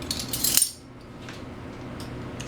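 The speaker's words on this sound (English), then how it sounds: "Let me grab a spoon here." A metal spoon being picked up in a home kitchen: one brief, bright clink near the start, then quiet room hiss.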